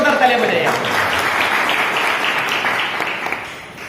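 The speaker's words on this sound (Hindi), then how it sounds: "पहले जोरदार तालियां बजाइए।" Loud applause from an audience at a Śrīmad Bhāgavatam lecture, a thick, sustained wash of many hands clapping that holds for several seconds with some voices underneath before easing slightly at the end.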